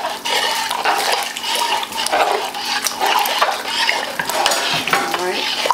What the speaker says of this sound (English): So we're going to stir this pot real good.